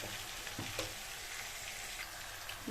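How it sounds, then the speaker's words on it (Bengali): Green peas and paneer fry with spices in a pan, giving a soft, steady crackling sizzle with faint stirring scrapes. There is no talking. "আমার মটর আর পনিরটা ভালো করে মশলার সঙ্গে ভেজে নেওয়া হয়ে গেছে"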